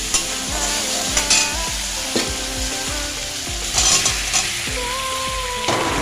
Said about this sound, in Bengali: তখন দিয়ে দিচ্ছি ভাজা আলু।